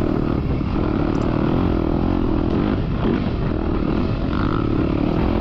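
A Yamaha YZ250F dirt bike engine runs continuously and loudly up close, a dense, buzzing steady drone with slight rises in pitch, no talking.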